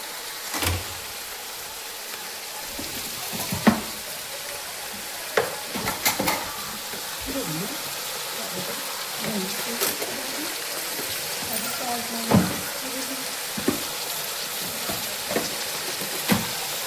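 Sambar with ripe cucumber pieces, seeds left in, simmering and sizzling in a pan: a steady low hiss of cooking runs throughout, broken by occasional clinks and stirring knocks close by.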